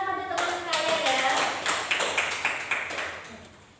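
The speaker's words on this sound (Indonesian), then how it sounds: "Beri tepuk tangan pada teman kalian ya." A classroom of students gives a short burst of applause, a cluster of light, quick claps at close range that tapers off after a few seconds.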